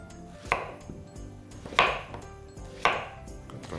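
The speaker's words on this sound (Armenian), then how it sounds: "կտրատենք կիսաղակներ" A knife chops zucchini into half-rings on a board, three crisp distinct cuts spaced about a second apart, close and clear with quiet kitchen rustle between.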